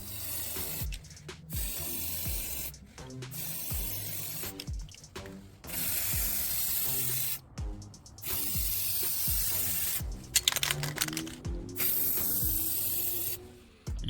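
Spray paint primer hissing from a can onto a Captain America helmet, steady bursts of spray repeated several times, close and fairly loud, with brief gaps between passes.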